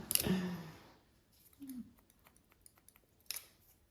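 Scissors trimming hair during a short haircut: a few crisp snips close to the microphone, separated by quiet pauses, faint and sparse.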